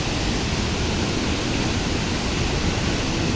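Ranao Falls in Barangay Luoy sends up a loud, dense, unbroken roar of falling water, steady and close throughout with no other sounds.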